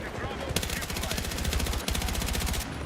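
Automatic gunfire from a gun with heavy recoil in Battlefield 6, two long, loud bursts of rapid, evenly spaced shots with a brief gap between them, up close and dominant.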